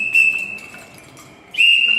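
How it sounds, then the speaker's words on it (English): A train engineer's double whistle gives two shrill, close blasts, a short one at the start and a longer one near the end, with a quieter gap between them. "so it's called a double whistle."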